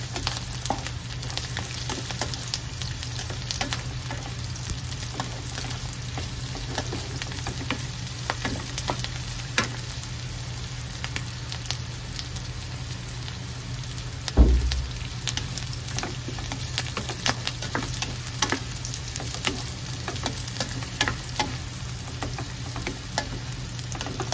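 String beans and onion sautéing in a pan without oil, a steady close sizzle throughout with faint occasional utensil scrapes and one sharp knock near the middle, no talking.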